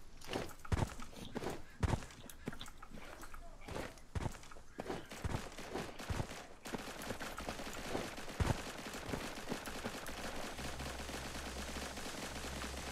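Scattered gunshots in a Cyber Hunter battle royale match, sharp cracks spaced irregularly over the first half with one more later, mixed with footsteps and a steady background drone.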